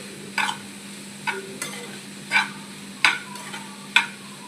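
A spoon scrapes through ivy gourd curry in a pan as oil spice powder is stirred in, with about six short scraping strokes at an uneven rhythm over a faint steady hum.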